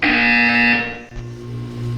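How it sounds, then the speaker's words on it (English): Loud electronic buzzer in the Portal 2 video game sounds as a harsh sustained tone, then drops to a lower steady hum for the rest of the moment. "When you hear the buzzer, look up at the ceiling."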